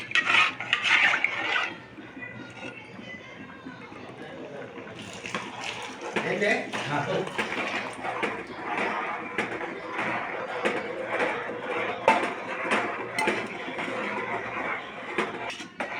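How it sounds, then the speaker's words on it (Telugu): Ragi flour being stirred into soft-cooked rice in a pot for ragi sankati, heard as steady close scraping and clinking of a spoon against the pot, with brief wet stirring sounds throughout. "ఇలా గడ్డగట్టకుండా పిండి మంచిగా కలుపుకుంటూ ఉండాలి."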